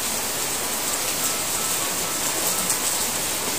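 Steady rain pours down outdoors, a dense, even hiss that holds at a constant level throughout with no voices.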